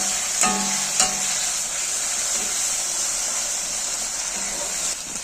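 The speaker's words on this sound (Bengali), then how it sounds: "পেঁয়াজটা ভাজতে ভাজতে টমেটো পেস্ট দিয়ে দিলাম।" Onions frying in a pan with tomato paste for a soybean and egg dish, giving a loud, steady sizzle and hiss close by, with a couple of brief stirring knocks early on and no talk.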